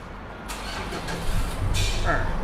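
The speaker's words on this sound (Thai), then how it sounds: "เดี๋ยวเรามาสตาร์ทรถกัน" A 2013 Mitsubishi Pajero Sport four-wheel-drive engine cranks and catches, settling into a low, close idle rumble under a voice.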